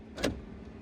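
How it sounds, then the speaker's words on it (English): A single sharp mechanical clunk of Mercedes G63 AMG door locks engaging, close and solid, over a low steady background rumble. "Listen to the sound of a lock."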